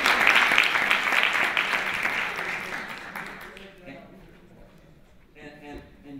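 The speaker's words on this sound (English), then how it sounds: "Can y'all give a round of applause for that question?" Audience applause for a question at a Black History Month talk by a speaker at CMU, loud and dense at first, then thinning and fading out as a few voices murmur near the end.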